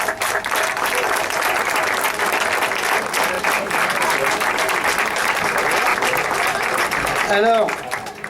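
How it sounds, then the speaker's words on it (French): Sustained applause from a crowd at a nursery school event, dense and even throughout, with a voice rising briefly near the end as the clapping tapers. "On peut l'applaudir."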